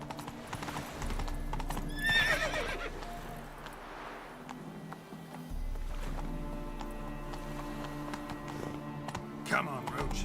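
Roach the horse in The Witcher 3, hooves clip-clopping at a steady gait with a clear whinny early on, while a player talks over the game sounds.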